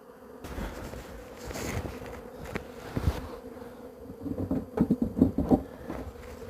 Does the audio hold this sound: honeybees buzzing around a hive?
yes